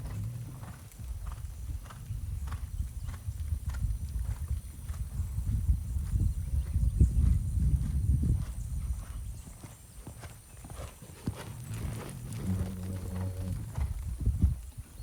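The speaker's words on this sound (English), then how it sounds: "Now canter, horse." Horse hooves thud steadily in a cantering rhythm during a dressage lesson, close and continuous over soft arena footing, with a faint whinny-like tone near the end and little speech.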